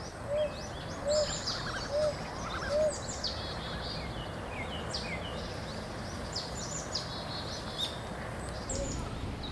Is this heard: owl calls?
yes